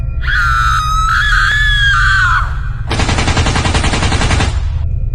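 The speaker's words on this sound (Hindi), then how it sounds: "कमला वहां पर आती है और पागल की तरह चीखने चिल्लाने लगती है।" A Free Fire video game character lets out a loud, shrill, wavering scream for about two and a half seconds, followed by a steady burst of rapid machine-gun fire, both loud and close with no talking.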